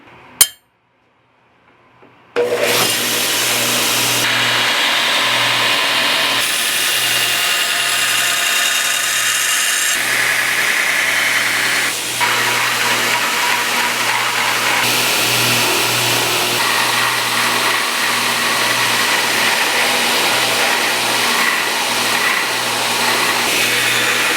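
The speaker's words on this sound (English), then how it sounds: "We have to flatten this on the grinder before we put the scales on" A loud, steady mechanical whine runs continuously after a brief silence, with a low hum beneath and shifting high-pitched grinding tones, a grinder flattening a forged Japanese kwaiken knife blade.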